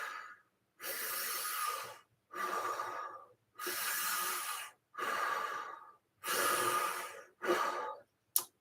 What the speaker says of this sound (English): inhale and exhale through the mouth